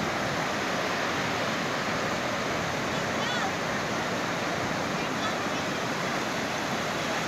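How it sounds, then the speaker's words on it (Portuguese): Sea waves at Flórida Mirim beach on the south coast of São Paulo, a steady, continuous wash of surf noise throughout, with no distinct voices. "Escuta aí o barulhinho do mar."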